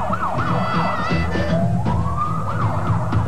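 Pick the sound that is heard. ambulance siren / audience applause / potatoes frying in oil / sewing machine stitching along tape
ambulance siren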